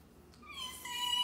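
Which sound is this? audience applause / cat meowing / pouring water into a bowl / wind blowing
cat meowing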